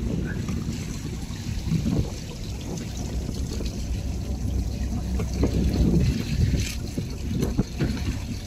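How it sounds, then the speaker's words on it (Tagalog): A boat out on open water in Wando County, South Korea, with a steady low rumble, wind buffeting and water splashing and washing along the hull throughout. "Isang bangka."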